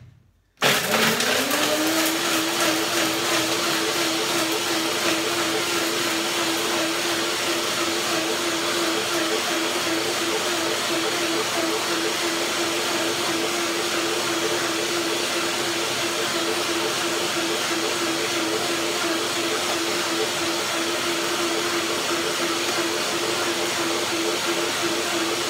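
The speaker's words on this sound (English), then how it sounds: "Blender dance." A blender whirs steadily at high speed, blending nuts and water into a cream, with a loud sustained motor drone that starts abruptly and holds for the whole stretch.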